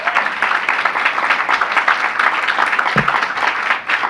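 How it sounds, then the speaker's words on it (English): Audience applause at a public health announcement by the mayor in Washington, DC, steady clapping from a crowd sustained throughout. "Give him a big round of applause."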